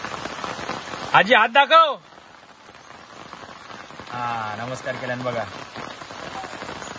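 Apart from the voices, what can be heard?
morning rain falling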